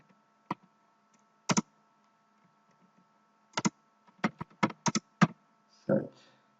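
Sparse clicks of computer keyboard keys: a few isolated taps, then a quicker burst of keystrokes near the end, close and clear over a faint steady hum.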